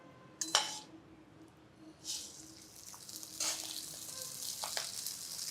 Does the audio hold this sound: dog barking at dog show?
no